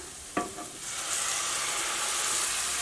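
A sharp clatter, then a rising hiss as chili powder hits hot oil and settles into a steady, close sizzle.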